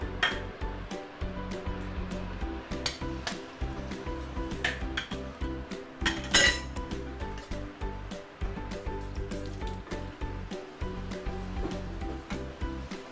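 Fermented soya beans and chili stir-fried in garlic oil in a pan, a steady sizzle broken by repeated sharp clanks and scrapes of a utensil against the metal, close and busy throughout.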